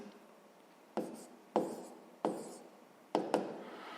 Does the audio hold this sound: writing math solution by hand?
yes